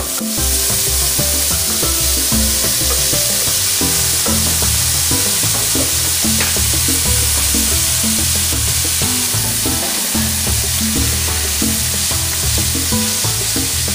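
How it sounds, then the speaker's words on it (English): Duck pieces frying in a pan as their fat renders, a loud, dense, unbroken sizzle and spatter up close, with occasional stirring scrapes underneath. "We're going to let more of that fat render off."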